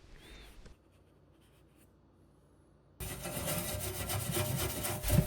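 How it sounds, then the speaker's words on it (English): Sandpaper of 400 grit rubs over a Gaggia Classic espresso machine case, a steady close scratchy friction that starts after a quiet stretch and continues loudly to the end. "I'm just going to finish it up on some 400 grit and get it nice and shiny."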